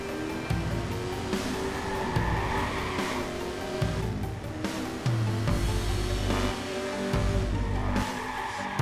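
Car driving in the Watch Dogs video game, a continuous loud engine roar with shifting pitch and tire noise, rising and dropping as it accelerates through the streets.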